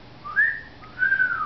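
A person whistles to a pet parrot, two short bright rising-and-falling whistles close to the microphone in a quiet room.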